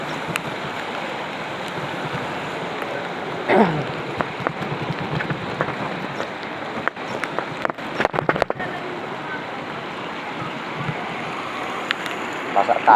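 Steady hiss of rain and gusting wind on Makati Avenue in Makati, continuous and loud, with scattered taps and clicks over it and a passing vehicle sound midway.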